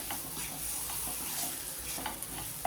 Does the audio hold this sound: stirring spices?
yes